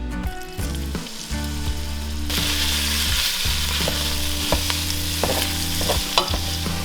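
Lean ground beef frying in olive oil in a pan, a loud steady sizzle that swells after a couple of seconds, with periodic scrapes and taps of a spatula stirring the meat, close and without talk.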